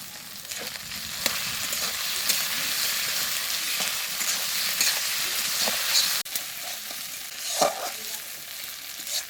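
Ginger and garlic paste frying in a pan for a sea fish curry, a continuous soft sizzle and hiss with occasional scraping stirs and small clinks.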